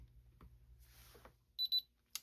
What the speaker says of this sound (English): Okay, so that has beeped and the light has gone green.